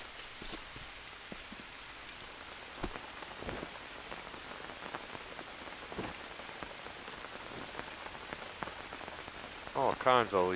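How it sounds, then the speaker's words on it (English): Rain pours steadily in the survival video game Green Hell, a dense hiss of drops pattering on leaves and surfaces with scattered sharper splats, and a brief louder rustle near the end. "All right, Rain. You should be about done."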